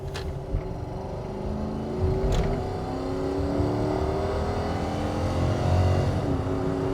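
A first-generation Toyota Tundra full-size pickup, recently fitted with new shocks, accelerating hard from inside the cab, its engine rising steadily in pitch through a gear change with a continuous, fairly loud drone and no talk.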